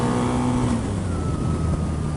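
A Harley-Davidson V-Rod Muscle motorcycle engine drones under light throttle, a close, steady exhaust note whose pitch shifts slightly partway through the brief stretch.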